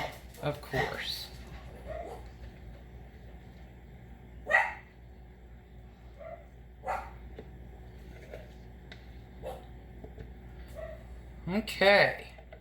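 Scattered dog barks ring out from some distance, a single bark here and there separated by long quiet stretches, with a louder pair near the end.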